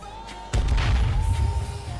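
A video game grenade explodes in a single loud, low boom that swells suddenly and rumbles on, with faint whoops and crowd-like noise behind it.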